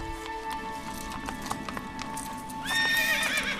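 Agro the horse in Shadow of the Colossus gallops with rhythmic hoof clip-clops, then lets out a loud, rising neigh near the end, all over soft game ambience.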